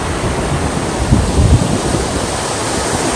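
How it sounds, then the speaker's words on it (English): Rushing water from a small flooded creek pouring over a low concrete crossing and rocks, a steady broadband roar with no voices. "this is just a little creek that's flooded here."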